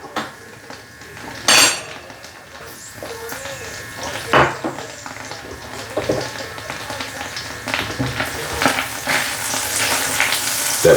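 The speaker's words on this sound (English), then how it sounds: "That popping sound is gonna be your thyme sprig." A sprig of thyme popping and crackling as it fries in a pan, with sharp irregular pops and snaps over a steady sizzle, plus occasional clinks of cookware, no talking.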